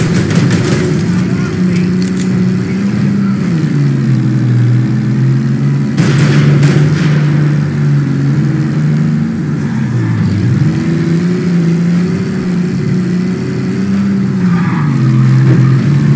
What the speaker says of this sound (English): I'm always a fan of a good car chase.